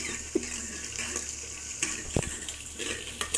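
Dried red chillies, onion and curry leaves stirred in a pan for a tamarind-leaf curry, giving a soft steady sizzle with a few scraping clicks of the spoon and one sharper knock against the metal, no talking.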